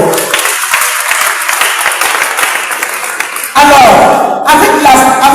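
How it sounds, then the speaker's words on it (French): A church congregation applauds in dense, continuous clapping, with a voice speaking over it; the clapping swells louder partway through. "On va s'acclamer très fort."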